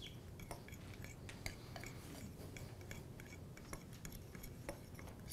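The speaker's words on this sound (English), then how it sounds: "Just take a fork and just kind of fluff that in there." A fork fluffing cornstarch in a bowl to coat red velvet cookies: faint, quiet scratchy clicks and ticks of metal against the bowl, repeating irregularly over a soft background hiss.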